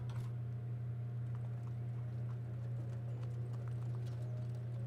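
A horse carriage clip-clops at a steady trot, somewhat distant, in an RPG Maker game, the hoofbeats riding over a loud low droning hum with no talk.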